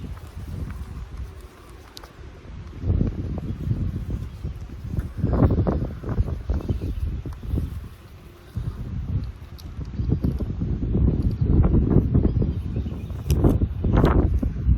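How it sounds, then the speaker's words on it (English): Gusty wind buffets the microphone in heavy, uneven surges while installing vinyl gutters outdoors, with rustling and a few knocks and scrapes in between. "really windy"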